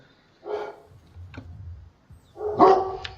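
A dog barks in the background during a live commentary of a StarCraft-style tournament semi-final, with a few loud barks separated by a lower rumbling stretch, no talk over them.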